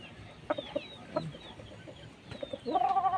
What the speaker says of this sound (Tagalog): tayo dito nagpapakain sa ating mga alagang manok